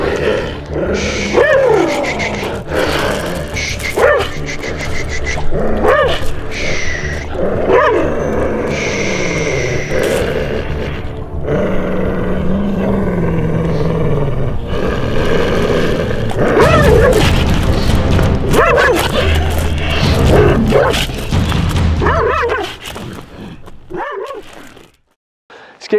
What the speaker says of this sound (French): Il s'arrête simplement au grognement